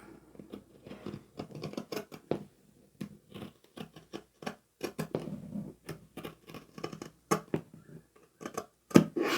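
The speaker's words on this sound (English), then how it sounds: "you can fold the lining in half and cut that curve out." Scissors snip through folded bag lining fabric, cutting out a curve in a quick irregular series of close, crisp cuts with short pauses between them.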